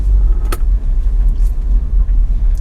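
An off-road SUV with a 4-liter V6 drives over a rocky road, giving a heavy, continuous low rumble from inside the cabin with occasional knocks and rattles.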